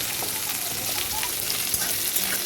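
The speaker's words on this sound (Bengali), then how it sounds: "এরপর আমি পেঁয়াজ দিয়ে দেবো, দুটো কাঁচা লঙ্কাও দিয়ে দিলাম। পেঁয়াজ দিয়ে ভালোভাবে ভেজে নেব।" Onions and green chillies frying with cumin in a pan produce a loud, steady close sizzle with occasional stirring clatter and no talk.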